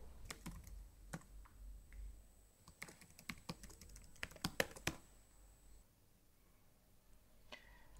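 Fast, irregular clatter of computer keyboard keys as login credentials are typed, a burst of quick clicks then a pause, fairly close but quiet with no talk.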